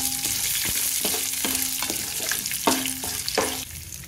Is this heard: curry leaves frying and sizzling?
yes